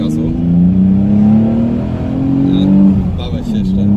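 Nissan 350Z sports car, built for 300 to 650 hp, revs its engine up close in a loud, steady drone that rises and falls over about four seconds, with voices talking over it.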